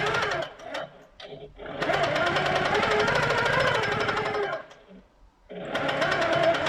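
Sewing machine stitching, driven by a foot pedal, a loud, rapid, rhythmic mechanical chatter in close bursts that stop and restart with short pauses between.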